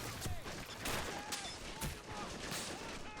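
Machine gun fire during a naval base siege in Men of War, rapid bursts of gunfire crackling against a dense battle din, with voices talking underneath.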